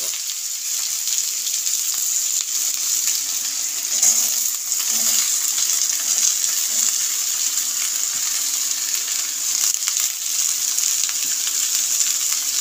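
Potato and bottle gourd peel frying in mustard oil in a village kitchen, a loud continuous sizzle that hisses evenly without pause, with faint stirring clinks underneath.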